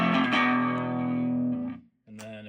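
An electric guitar through a DIY EF80 all-tube mini practice amp at full volume: a sustained, heavily overdriven chord rings out crunchy and loud, fades, then a second distorted chord strikes after a brief gap.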